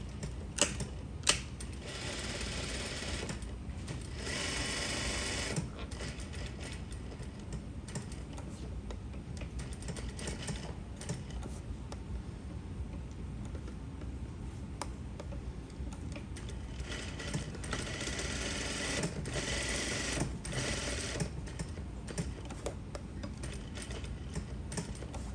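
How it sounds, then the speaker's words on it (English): A sewing machine stitches around an exposed zipper with a quiet, continuous rapid ticking and clatter that swells in a few bursts over about twenty-five seconds. "I stitch all around this"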